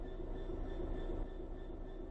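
A diesel locomotive in Train Sim World 4 rumbles steadily with a low engine drone and a faint high whine, a constant mechanical hum without talk.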